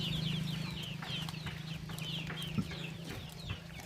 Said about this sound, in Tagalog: nandito tayo ngayon sa Manukan